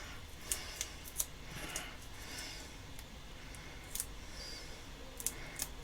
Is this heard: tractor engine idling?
no